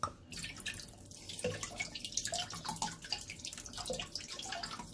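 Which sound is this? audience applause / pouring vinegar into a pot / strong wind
pouring vinegar into a pot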